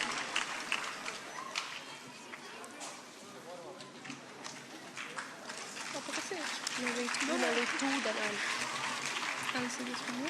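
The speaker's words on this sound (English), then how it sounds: "Huge round of applause" An audience at a state-level competition in Jammu and Kashmir breaks into a long round of applause, clapping swelling and carrying on over a host's amplified voice in a large hall.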